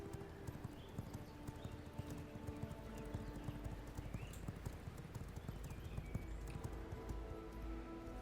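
Rapid rhythmic clip-clop of a horse galloping in the video game V Rising, steady hoofbeats continuing throughout at moderate loudness with a faint game soundtrack underneath.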